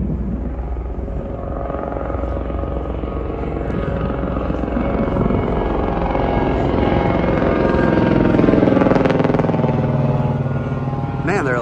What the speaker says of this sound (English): Wait for the whirly bird to go by.